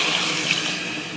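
Water is poured into a cooking pot for vegetable biryani, a close, steady splashing rush that runs unbroken through the short moment.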